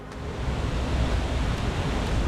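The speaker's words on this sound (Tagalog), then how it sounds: "welcome to Mother Falls" Mother Falls, a waterfall in Aurora, gives a continuous dense rushing roar, steady and full with strong low rumble, heard close by.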